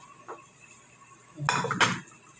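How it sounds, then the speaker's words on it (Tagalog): A small frying pan being lifted off and swapped for another in a home kitchen, with a faint clink followed by two louder metallic clanks of cookware close by. "tanggalin ko na itong kawaling maliit"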